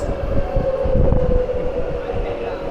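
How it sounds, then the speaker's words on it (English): A Taipei MRT metro train pulls into Taipei Main Station on the red line, a loud, close rumble of wheels and carriages with a sustained whining tone carried over it. "And the train is coming now. Here's the MRT, look."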